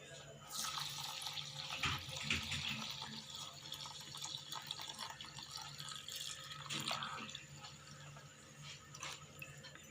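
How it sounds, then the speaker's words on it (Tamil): Running tap water splashes over ragi grains being washed in a vessel, a steady close hiss and patter with brief stronger gushes and clatter, no talk. "தண்ணி ஊற்றி 4-5 தடவை வாஷ் பண்ணிக்கலாம்."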